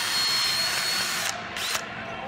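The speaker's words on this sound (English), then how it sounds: "I'll drill a couple spots, then run them down." A power drill bores into lake ice, whirring loudly and steadily up close before cutting off, followed by a short second burst and a quieter tail.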